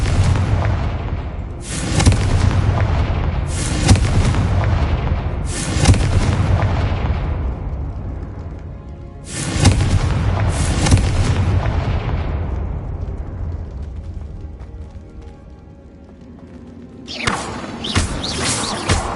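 Repeated heavy booming blasts from the Confringo spell in the video game Hogwarts Legacy, about six loud explosions spaced a couple of seconds apart, each ringing out with a long decaying rumble.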